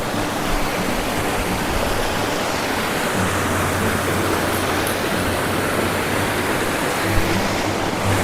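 The Enkoor waterfall in Khammam roars with fast-flowing water, a loud, dense and unbroken rush heard up close with no speech.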